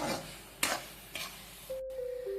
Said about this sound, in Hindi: अब हम इसमें मैंने जो ड्राई नट्स और सीड्स कट करके रखे थे उसे ऐड कर देंगे और इसे मिला लेंगे।